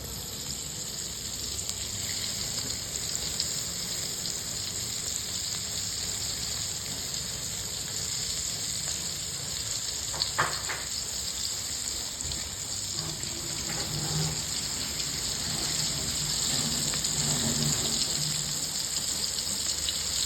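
Batter-coated chicken deep fries in hot oil, a steady broad hiss of bubbling fat running throughout, fairly close and even, with a few faint clinks partway through.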